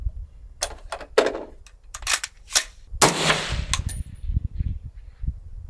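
An AR-10 rifle fires a series of sharp, loud shots at irregular intervals, one louder crack with a longer ringing tail near the middle, followed by quieter low thuds and handling noise.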